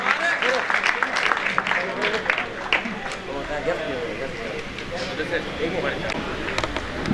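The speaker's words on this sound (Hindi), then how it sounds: "जोरदार तालियां मोहम्मद इमरान और मोहम्मद रमजान के लिए" Audience applause at a school farewell party in a boys' high school, a dense, sustained clapping from a crowd that fades slightly toward the end.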